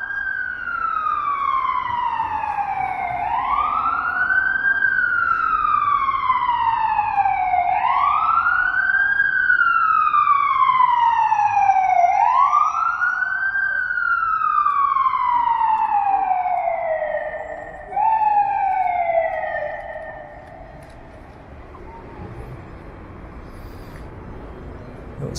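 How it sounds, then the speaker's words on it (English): Emergency vehicle sirens wail in repeated rising and falling sweeps, loud and reverberant as they echo between downtown high-rise buildings, then cut off abruptly, leaving street traffic noise. "Those sirens really echo big time walking through these high-rise areas"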